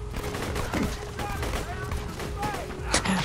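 Gunfire in the video game Borderlands 2: rapid bursts of shots, fairly close and dense, continuing under people talking.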